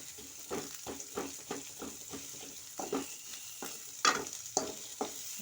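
Ingredients for an Indian mackerel (ayila) fish curry sauté in a pan, a steady low sizzle broken by repeated scraping strokes of a stirring utensil. Occasional sharper clinks stand out near the end, with no voices.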